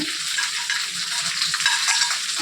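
Chili chicken stir-fries in a hot pan with green and yellow capsicum and onion, a steady, close sizzle and crackle of frying that carries on without talk.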